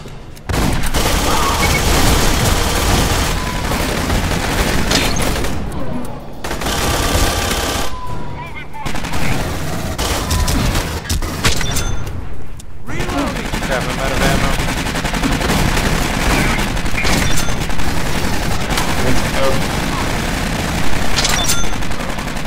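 Sustained turret fire in the video game Aliens: Colonial Marines, loud continuous rapid bursts that broke off only briefly, with player voices talking over it.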